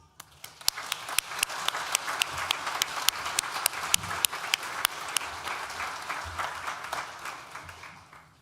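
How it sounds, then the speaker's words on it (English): Applause from a large audience at a university graduation ceremony, dense continuous clapping with crisp individual claps on top, starting abruptly and holding steady before easing slightly toward the end. "Please join me in thanking them with a well-deserved round of applause."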